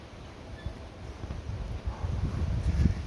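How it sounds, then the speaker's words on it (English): Steady gusty wind noise with low rumbling buffets that swell toward the end, like wind moving through trees outdoors. "these trees are very tall and it's very windy"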